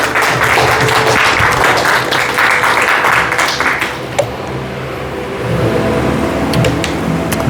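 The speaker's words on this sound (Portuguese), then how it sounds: "Aplauda o Senhor Jesus Cristo," Congregation in a church applauding together, a dense, loud clapping that thins out midway and then picks up again, with a sharp knock or tap standing out near the middle and no talk heard.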